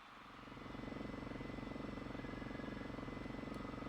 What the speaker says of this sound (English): He's trying to escape with a helicopter.